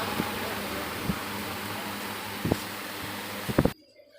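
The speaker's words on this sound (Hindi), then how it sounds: "तो इस पंखे का स्पीड 1200 है।" An electric fan running at about 1200 RPM gives a steady, fairly quiet whooshing whir with a few faint clicks and knocks, then stops abruptly near the end.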